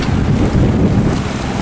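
A fishing dive boat, registration 9793 TS, speeds toward a Binh Thuan port as strong wind roars over the microphone, a loud continuous rumble of engine, wind buffeting and water rush with no voices.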